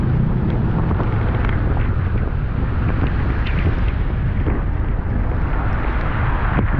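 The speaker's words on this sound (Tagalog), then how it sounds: "sobrang lakas ng ulan, sobrang lakas ng hangin" A loud, unbroken roar of strong wind mixed with heavy rain hissing steadily while cycling, buffeting the microphone without pause.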